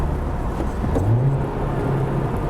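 A Honda Civic Type-R with a 2.0-litre turbo engine rated at 320 hp, dropped into second gear, holds a steady low engine drone that swells slightly midway and stays close and constant inside the car.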